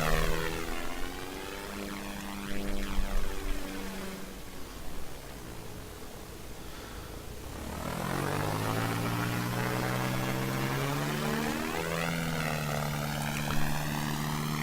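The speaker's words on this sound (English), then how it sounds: "It's a fun little aircraft to fly. So yeah, the Dornier TU29." The Dornier TU29, a short-takeoff, near-vertical-landing aircraft in the game SimplePlanes, drones with a propeller engine. Its pitch sweeps up and down as power changes, then settles into a louder, steady roar in the second half.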